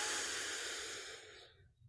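A long, soft breath of air during a guided meditation, close and hissy, fading away over about two seconds into near silence.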